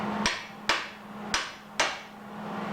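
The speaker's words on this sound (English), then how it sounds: "Just get a hammer and bend that down without breaking the tack" Four sharp metallic hammer strikes ring out at an uneven, deliberate pace, each with a brief ringing decay, over a faint steady hum, as a hammer bends down a tack-welded metal piece on a disk belt sander rebuild.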